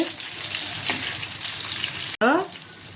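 Stuffed ridge gourd sizzles in an oiled pan with a steady close crackle and hiss, stirred a couple of times, with a brief clatter as the pieces are turned.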